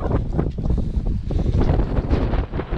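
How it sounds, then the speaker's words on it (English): Strong gusting wind at Haile Sand Fort in the Humber Estuary buffets the microphone, a loud continuous low roar that surges and eases with no voices. "Trying not to do any talking around there because it's extremely windy."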